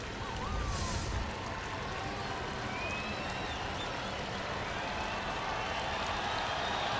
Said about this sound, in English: Crowd trying to make some noise.